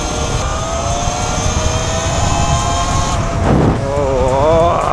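An E-Ride Pro electric bike accelerating at 15 kilowatts gives off a loud, steady electric whine with rising tonal pitch, rushing wind noise underneath, and a swelling, wavering motor tone near the end.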